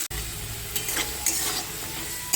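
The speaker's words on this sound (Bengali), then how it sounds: "আলুটা একটু ভালো করে ভেজে নিই" Potatoes frying in a pan for a Bengali spring onion greens dish, stirred now and then, giving a soft, close sizzle broken by brief scraping swells and a faint clink.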